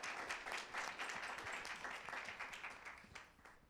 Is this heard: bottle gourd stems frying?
no